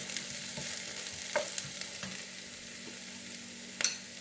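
Ingredients for a shepherd's pie with garlic and herb sauce fry in a pan with a steady close sizzle, broken by occasional scrapes and taps of stirring.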